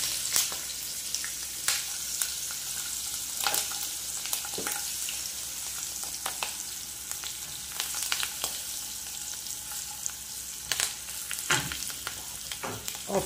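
A tempering of mustard seeds, cumin, asafoetida and green chillies sizzles in hot oil, a steady close crackle dotted with sharp pops and light stirring scrapes throughout, with no speech.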